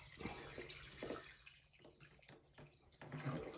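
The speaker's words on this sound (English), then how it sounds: "I'm gonna fill this thing up." A very high wall-mounted toilet tank fills from its supply, with soft running and trickling water plus a few faint knocks, fairly quiet, no talk.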